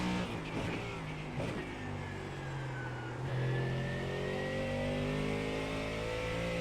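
A car engine revs and climbs through the gears as it accelerates out of a corner on a race track, a loud, steady, rising drone with a brief shift dip midway.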